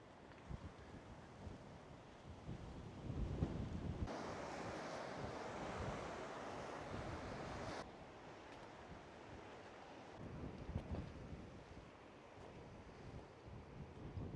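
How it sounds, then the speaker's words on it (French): Steady wind rushes and buffets against a microphone outdoors in Phan Rang, Vietnam, swelling louder for a few seconds in the middle before easing back, with no voices. "Il y a du vent"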